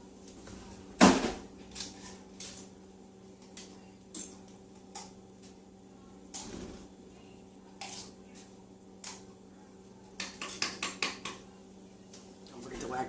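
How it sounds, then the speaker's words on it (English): A knife slices bell peppers on a cutting board with irregular light taps and chops, faint to moderate, and a quick run of rapid cuts near the end. "I will continue slicing up the peppers."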